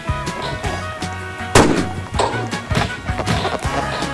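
Rapid gunfire in the video game Arsenal, with a string of punchy, close shots in an uneven rhythm, the loudest burst near the middle. Game music plays underneath.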